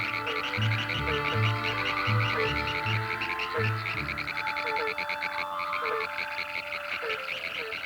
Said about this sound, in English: When a frog calls, it's almost exclusively for mating.